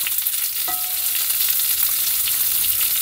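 Pieces of meat searing in a frying pan, cooked in a camper van in Corsica, make a steady, loud sizzling hiss that carries on throughout, with a brief utensil clink early on and no talk.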